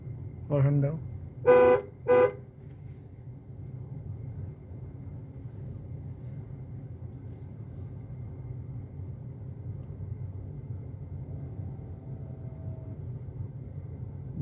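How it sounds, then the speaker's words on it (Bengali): During a driving lesson, a car horn gives three quick, loud toots in the first couple of seconds, followed by a long stretch of quiet, steady engine rumble. "আবার হর্ন দাও।"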